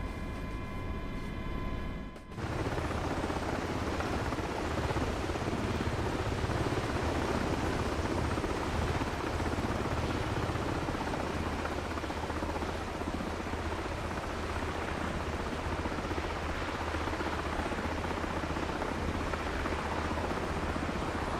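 A video game helicopter's loud, continuous rotor roar fills the air after a brief cut-in, staying steady and close throughout.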